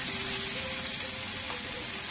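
Onion dropped into hot oil with mustard seeds, cumin and garlic, giving a steady, close hiss of sizzling frying throughout.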